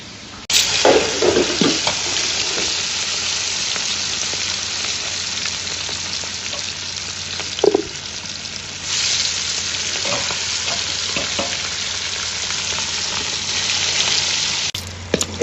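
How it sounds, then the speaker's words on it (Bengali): Big fish such as hilsa and catla frying in hot oil on a clay stove outdoors, giving a loud, steady sizzle throughout with occasional spatters and stirring knocks. "এইদিকে বড় মাছ ভাজতে উঠেছে"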